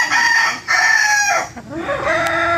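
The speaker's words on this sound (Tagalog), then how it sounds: "Ayan po yung ating Boston Roundhead na Esculin line." A Boston Roundhead gamefowl rooster of the Esculin line crows loudly and close by, giving a few strong, drawn-out calls in quick succession.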